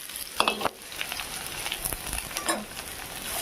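Taro stems frying in hot oil with onion and green chilli, a steady close sizzle with a few louder crackling bursts and stirring scrapes, no voices.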